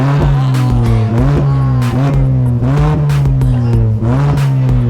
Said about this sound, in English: My car sounds amazing.